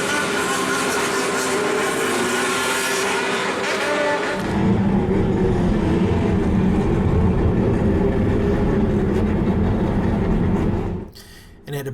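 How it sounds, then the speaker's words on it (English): Bosozoku gang motorcycles revving their engines at night outside a police station in Japan, a loud continuous roar that swells midway and stays heavy before dropping off near the end. "wave their hands towards the police station and rev their engines louder in protest"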